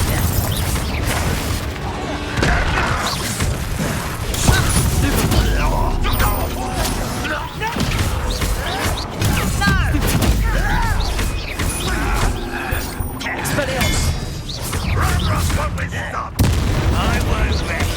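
Confringo blasting spells and battle effects from Hogwarts Legacy, dense and loud booms and crashes running throughout over busy game noise, with voices talking in the mix.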